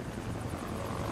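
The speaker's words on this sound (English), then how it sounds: "Helicopter got a little close, didn't they?" A helicopter passing close overhead in the video game Far Cry 6, a loud, steady rotor thrum with rhythmic blade chop and engine whine, no voices.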